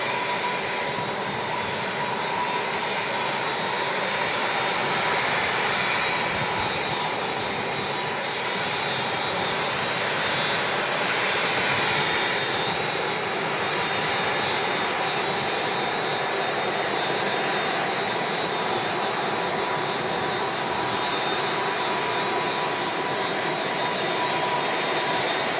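At Manchester Airport, a jet aircraft rumbles and roars at a steady, continuous level, moderately loud, as it taxis or passes on the airfield.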